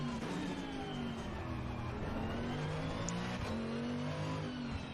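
Racing car engine in a driving video game, an understeering car revving and shifting through gears with a layered, buzzing engine note, steady and fairly quiet, no speech over it.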